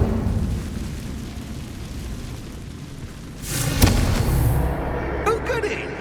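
A Confringo spell explodes in the Hogwarts Legacy video game, a booming burst midway with a lingering rumble, followed by a few sharp magical crackles.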